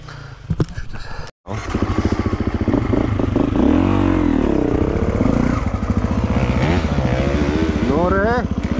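A motorcycle engine revs loudly and steadily close by for several seconds, the pitch rising and falling, after a brief clatter and a short gap at the start.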